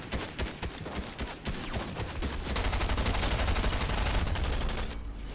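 Sustained gunfire from a squad in Fortnite is aimed at a tank, rapid overlapping shots that start in bursts and then merge into a dense continuous volley, fairly loud, before cutting off near the end.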